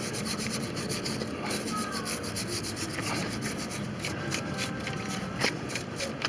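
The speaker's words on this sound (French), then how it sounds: "Brosse métallique, hein. Vous frottez tout ça," Wire brush scrubbing the brake calipers of a Renault Espace 3 during a pad change: steady, close rasping strokes that go on without a break, loud and dense, with no talking over them.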